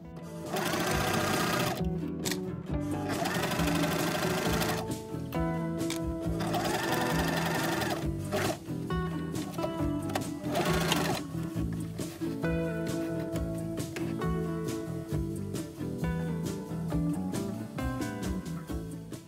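A sewing machine stitches a flat fabric toy rabbit around its ears, running close and loud in long continuous whirring bursts with brief pauses and clicks as the needle stops and the fabric is pivoted.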